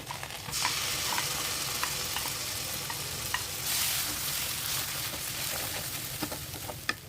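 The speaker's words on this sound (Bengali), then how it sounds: "এখন আমি বেগুনটাকে দিয়ে দিচ্ছি, যে ভাজা ম্যাশ করা বেগুনটা" Mashed fried eggplant is stirred into browned, sizzling onions and green chilies, giving a continuous close frying hiss with scattered spatula clicks and scrapes throughout.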